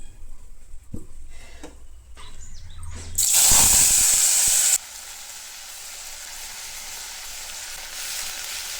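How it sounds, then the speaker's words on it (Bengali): Pakoras frying in a pan of hot oil give a loud, bright sizzle that bursts up for about a second and a half, then settles into a steady, softer hiss. "পকোড়াগুলো ভাজা হয়ে গেছে"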